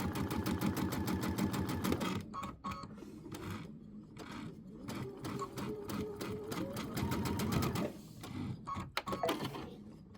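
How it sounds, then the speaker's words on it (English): A sewing machine stitches a quilt with a rapid, rhythmic mechanical chatter in bursts, stopping briefly and restarting several times, close and loud throughout with no talk. "I'm going to go ahead and I'm going to sew right down here."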